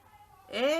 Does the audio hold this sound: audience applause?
no